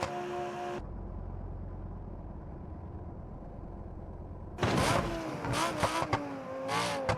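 A Lamborghini Gallardo in BeamNG.drive: a short burst of engine opens, then a long low rumbling lull, before a loud revving surge with rising, shifting engine tones and sharp bursts near the end.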